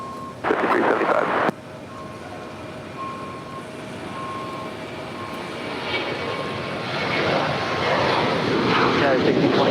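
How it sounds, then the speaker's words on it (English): An eight-year-old United Boeing 737-900ER airliner taking off at LAX, a steady broad jet roar building slightly over several seconds from a distance, with a short louder burst near the start and radio chatter in the background. "That is United 1620 departing to Phoenix. It's an 8-year-old 737-900 ER."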